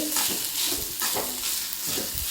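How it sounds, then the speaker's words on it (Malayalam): Grated coconut roasts in a hot pan for unnakkaya, a loud steady sizzle with rhythmic scraping strokes of a spoon stirring it around. "അത് കുറച്ച് നേരം നമുക്കൊന്ന് വറുത്തെടുക്കാം ഇതിൽ"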